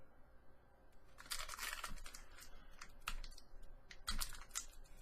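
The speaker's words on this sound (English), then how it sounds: "This pack is not wanting to be opened" Crinkly foil wrapper of a Magic: The Gathering Khans of Tarkir booster pack being torn and crumpled, with several bursts of crackling and ripping over about four seconds, close and fairly quiet.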